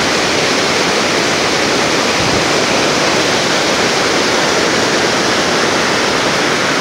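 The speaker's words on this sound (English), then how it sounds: "The water's falling in over there." On the Nantahala River, water pours into a pool with a steady, loud, full rushing roar that never lets up, like a close waterfall.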